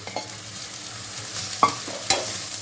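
Pre-fried eggs being stirred in a pan, with light sizzling under a few sharp scraping strokes of a spatula, close and fairly quiet.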